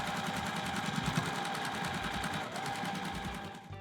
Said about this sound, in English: All we gotta do is put that final seam in to connect them.